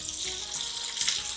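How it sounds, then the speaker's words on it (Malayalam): Curry leaves hit a hot pan for Kerala-style beef pepper roast and give off a brief, close, steady hiss and sizzle, with no talk. "ഇനി ഇതിന്റെ കൂടെ തന്നെ കുറച്ച് കറിവേപ്പിലയും കൂടി ചേർത്ത് കൊടുക്കാം"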